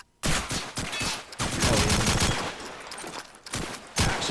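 Gunfire in a competitive shooter match at a LAN tournament, a loud rapid fusillade of shots in several bursts with short gaps between them.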